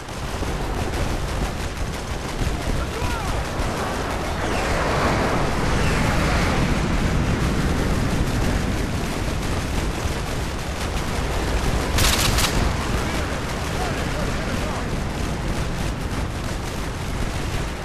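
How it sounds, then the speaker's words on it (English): Artillery strike on enemy vehicles in the video game Modern Warfare 2: a dense, continuous roar of explosions and gunfire, loud and sustained, with a brief sharp burst near the end. "Fire mission received. Artillery inbound."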